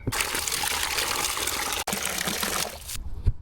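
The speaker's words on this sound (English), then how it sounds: "it's actually a folding bucket for 20 liters, so about 4 gallons. Let's fill it up." Water gushes from a hose or tap into a folding 20-liter bucket, a loud, close, steady rushing that breaks off briefly partway through and then ends with a couple of soft knocks.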